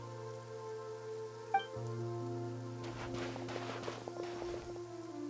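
Steady rain falls in Genshin Impact during the Mualani story quest, a continuous soft patter under a low sustained musical drone, with a denser spell of drops in the second half.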